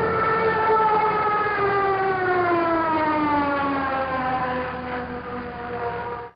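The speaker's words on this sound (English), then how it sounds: "that drop in pitch is the sound of the Stuka dive bomber pulling out of its dive" A Stuka dive bomber's wailing siren sounds loud and alone, its tone sliding steadily downward as the aircraft pulls out of its dive, then cutting off abruptly at the end.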